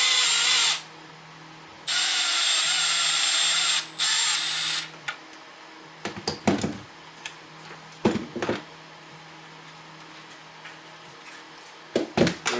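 Power drill tightening a part on a custom third brake light of a Toyota FJ Cruiser, with two long whirring runs of a few seconds each followed by several short, sharp bursts and pauses, close and alone.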